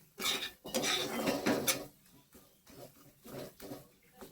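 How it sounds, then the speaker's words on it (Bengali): Spice masala stirred in a cooking pan, with a metal spoon scraping and knocking against the pan in uneven bursts, close and moderately loud, easing off into quieter scrapes. "দেখো মশলাটা আর একটু নেড়ে চেড়ে"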